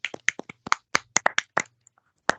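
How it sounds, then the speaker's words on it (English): A dozen or so sharp, close hand claps in an irregular rhythm, then a pause and one final clap, with no talk. "That's a clap right there."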